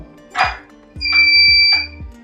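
A homemade metal detector's buzzer sounds over metal, giving a steady shrill electronic tone for about a second, close and loud, with a brief rustle beforehand and soft rhythmic thumps underneath.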